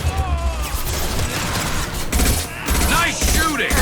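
Sustained rapid gunfire from a Mass Effect 2 firefight, dense overlapping shots and impacts rolling on without pause, loud and busy throughout with a voice briefly heard among the action.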